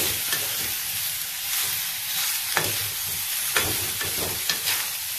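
Jackfruit curry ingredients fry in a pan with a steady sizzle while a utensil stirs them, making several brief scraping strokes; no one speaks.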